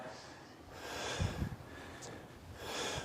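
Heavy, effortful breathing from someone exercising during a timed workout interval, with a couple of close, sharp snort-like exhalations amid steady gasping breaths and soft background noise.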